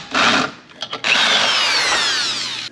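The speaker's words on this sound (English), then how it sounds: "Now that I've drilled a pilot hole, I can come in from the top with the step drill." A step drill bores down from the top through a pilot hole during a differential swap on a Polaris RZR XP Turbo, a loud steady whining grind that stops briefly, then resumes and holds for over a second alone.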